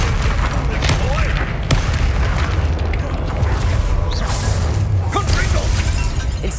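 Bombarda blasting spell explodes in Hogwarts Legacy combat, a loud rumbling boom with crackling bursts over a dense, continuous wall of battle noise.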